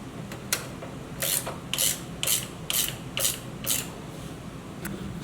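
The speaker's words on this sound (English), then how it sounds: "I'm going to be taking 2 3/4 inch wrenches and tightening this up" Two 3/4 inch wrenches tighten a locking nut on a Jeep TJ suspension, giving a series of about seven short, crisp ratcheting clicks in a steady rhythm, close and moderately loud in a quiet space.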